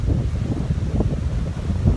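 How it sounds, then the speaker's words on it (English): Gusty wind buffets an outdoor microphone on a blustery day, a steady low rumbling roar with uneven surges throughout, loud and close, with no voices. "The weather's a little funny. It's windy."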